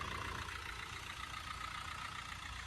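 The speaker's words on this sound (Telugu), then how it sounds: "స్మూత్ ఉంది ఇంజన్ మాత్రం" A 2015 Tata Bolt XMS diesel car engine idles with a smooth, even low rumble. It holds steady throughout the short stretch without revving.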